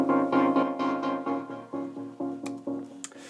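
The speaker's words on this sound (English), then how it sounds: "you hear the automation." Decam synth chords pulsing in a repeating rhythm, the tone shifting as the filter cutoff is automated, with a few higher electronic blips near the end.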